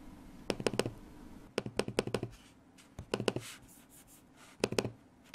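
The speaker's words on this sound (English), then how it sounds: "using this in the library or at night next to someone sleeping, the clicking is quite loud" Bursts of rapid keyboard clicking on a Microsoft Surface Pro 4 in short flurries separated by pauses, close and fairly crisp, with no voices.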